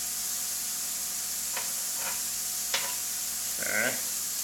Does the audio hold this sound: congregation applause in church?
no